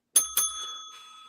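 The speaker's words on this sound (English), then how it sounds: "You rang the bell at your own joke." A small bell rings once as a punchline during a wrestling podcast, with two quick bright strikes and a long ringing tail in otherwise quiet surroundings.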